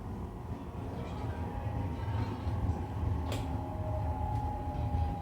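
Steady low rumble of a Howrah–Purulia MEMU special train running along the tracks near Bankura, with a faint whistle-like tone and a brief hiss midway; no talking.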